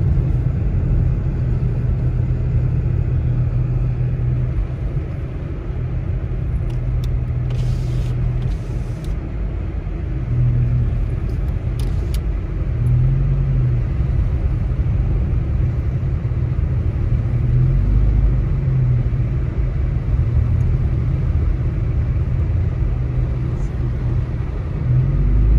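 A car drives through a heavy snowstorm in Big Bear, its steady low engine and road rumble continuing under the whole stretch, with a few brief higher clicks and no speech.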